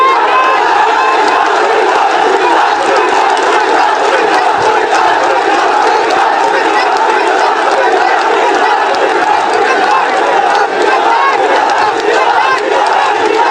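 A huge outdoor political rally crowd in Comilla chanting slogans together, a dense, loud, continuous roar of many voices without a break.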